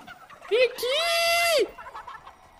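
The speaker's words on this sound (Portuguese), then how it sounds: "Galinha, vem aqui." A chicken in the video game Fortnite gives a loud, drawn-out squawk lasting about a second, framed by short bursts of clucking, with a voice talking faintly around it.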